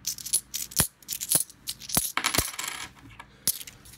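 UK £2 coins drop and clink onto a hard surface one after another in sharp, irregular metallic hits, loud and close.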